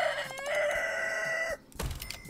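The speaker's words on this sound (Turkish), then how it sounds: "Bu horozdan nasıl ses çıkıyor öyle ya?" A rooster in the video game Honey, I Joined a Cult gives one loud, drawn-out crow close up, followed by a few short clucks, with no talking.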